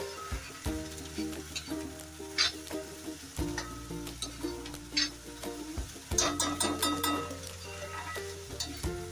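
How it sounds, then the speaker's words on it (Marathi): Onions fry in a pan, a soft sizzle under repeated stirring and scraping clatter, with a low steady hum beneath, fairly quiet and close. "कांदा लाल होईपर्यंत छानपैकी आपण भाजून घेऊया"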